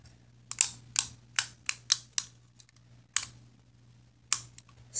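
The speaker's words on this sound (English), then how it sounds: "It will turn and it locks. That's why you hear that big click." A Cobra walkie-talkie shoulder mic knob is turned and locked, producing a string of sharp, close plastic clicks at irregular intervals over a low steady electrical hum.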